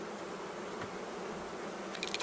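Honey bees hum softly and steadily around an opened hive during an early spring inspection, a faint continuous drone with a few sharper clicks near the end.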